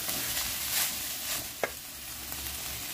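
Meat sauce for lasagna browning in a pan, a soft continuous sizzle with faint stirring and one sharp utensil knock midway, no talking.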